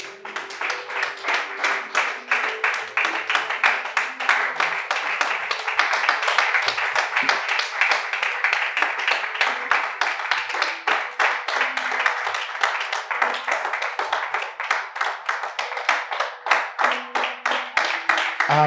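A church congregation applauding to acclaim the Lord, with dense, steady clapping from many hands that keeps a rough rhythmic pulse throughout and is loud and close.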